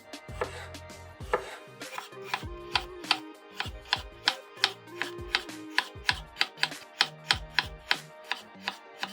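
Rapid, even knife chops through bell peppers on a cutting board, a crisp rhythmic series of thuds close up, with no talking.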